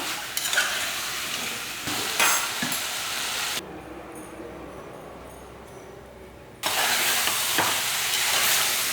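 Chicken sautéing in a pan for gravy gives a loud close sizzle and stirring scrapes, dropping to a quieter hiss midway before the full sizzle returns.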